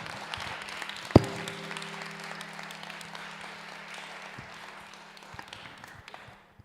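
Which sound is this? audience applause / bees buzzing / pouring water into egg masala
audience applause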